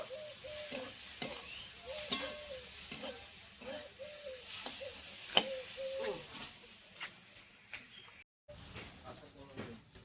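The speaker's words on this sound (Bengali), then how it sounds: "সর্ষে বাটার সঙ্গে আলু পেঁয়াজ এরকম 2 মিনিটের মতো একটু নেড়ে চেড়ে নেব।" Potato and onion frying with mustard paste in a pan, stirred with a utensil: a steady sizzle under repeated rhythmic scraping strokes close by, with a brief drop-out near the end.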